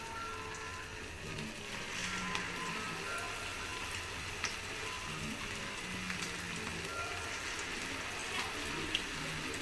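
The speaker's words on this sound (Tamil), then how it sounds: "இந்த மாதிரி நல்லா ஹீட்டாக இருக்கிற ஆயிலில் வந்து இப்படி போட்டு" Small cauliflower balls for gobi manchurian frying in a pan of hot oil: a steady, even sizzle with light crackles and pops throughout, close and moderately loud, with no talking.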